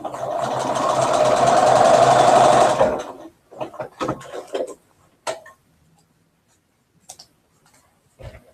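A sewing machine runs in one continuous fast whirring burst for about three seconds, then stops, followed by scattered soft clicks and handling taps nearby.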